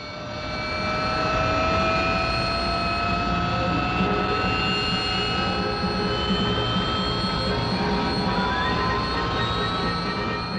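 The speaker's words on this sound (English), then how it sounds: "The flight of Kestrels can get away from this small clearing in a matter of minutes" Several Kestrel jump jets roaring as they lift off from a small clearing, a loud sustained jet whine with steady rising and falling tones that holds throughout without pause.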